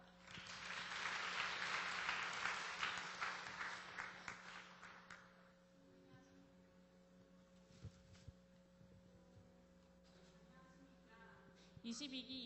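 Audience applause at a church youth worship service, a steady crowd of clapping hands for about five seconds that thins and fades, with low room hum and scattered sounds afterward.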